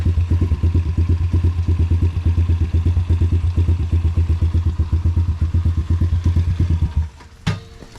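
A motorcycle-type engine idles roughly while warming up on a rainy day, a loud, steady, fast-pulsing chug close by for about seven seconds before cutting off, followed by a single sharp knock.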